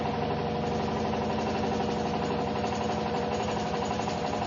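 Steady droning hum of a free energy perpetual generator spinning down toward its no-load speed of roughly 50 RPM, an even mechanical whir with faint rhythmic knocking, constant and close.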